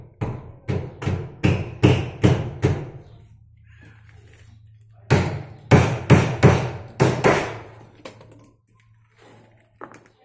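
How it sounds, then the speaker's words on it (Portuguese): Hammer blows on an iron door being set into its frame, two bursts of rapid, loud metallic strikes separated by a quieter pause, with no talking. "Então eu vou bater ele aqui agora."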